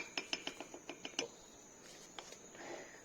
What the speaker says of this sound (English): I'm mixing it with the same tablespoon